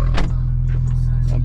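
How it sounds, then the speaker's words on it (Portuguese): A noisy car engine has just started and runs with a loud, steady low rumble and hum, while voices and small cabin noises sound briefly over it. "Vamos dar partida. Meu carro faz muito barulho."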